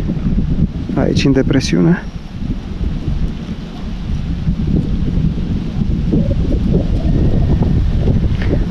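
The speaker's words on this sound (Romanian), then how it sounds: "S-a iscat un pic de vânt" Steady mountain wind roars and buffets the microphone with a low rumble throughout at Izvorul Mureșului in Romania's Giurgeu Mountains, while someone speaks briefly in Romanian near the start.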